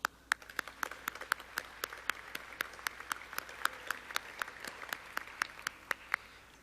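A small seminar audience claps in steady applause welcoming a finance minister, evenly spaced sharp claps standing out over a softer patter, heard from a moderate distance.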